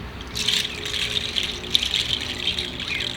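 A Kewei, an Indigenous instrument made from a plant, gives off a steady, hissing, water-like rush with small rippling swells, close and continuous with no voices.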